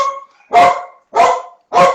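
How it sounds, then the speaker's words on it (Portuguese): A pet dog indoors at home gives three loud, close barks at a steady pace, with short silences between them. "é que o cachorro se soltou aqui"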